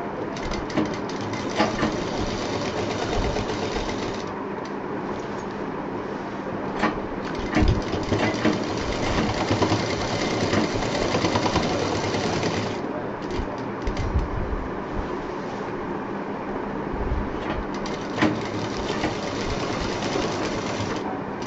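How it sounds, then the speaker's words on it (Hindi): A sewing machine runs in long, fast bursts while double-stitching the seam of a quilt case, its rattling needle close and steady with brief pauses between runs. "इसको थोड़ा मजबूती के साथ जोड़ना है डबल सिलाई करके"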